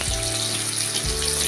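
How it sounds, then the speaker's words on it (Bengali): Pieces of pointed gourd (potol) frying in hot oil, a steady close sizzle with faint low thumps, no voices. "একইভাবে আমরা পটলের কেটে রাখা মুখের অংশগুলি ভেজে নেব।"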